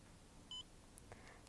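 A single short electronic beep from a Specim IQ hyperspectral camera powering on, clear and steady, with a faint quieter blip shortly after against low background hiss.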